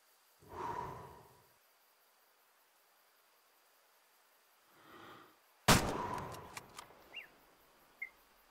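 A single sharp, close rifle shot during a hunt in Way of the Hunter, preceded by two soft breaths and followed by a ringing decay and a few small clicks, in an otherwise quiet outdoor scene.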